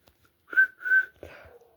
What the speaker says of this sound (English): Oh, that's the guard's whistle.